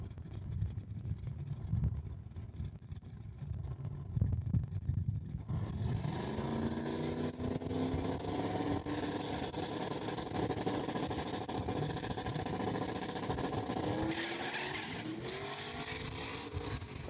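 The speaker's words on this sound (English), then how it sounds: "Mustang had a little bit of squeal, but she took off in a hurry." A Ford Mustang and a 1979 Chevy Camaro launch side by side at Saskatchewan International Raceway's drag strip. A loud, rising engine roar builds after a quieter idle, with a brief tire squeal and sustained high-revving wail as the cars pull away.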